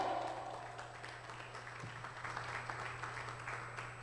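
A church congregation applauds during a Spanish-language evening service, a soft, steady wash of clapping held at moderate distance over a low constant hum, with no break across the stretch.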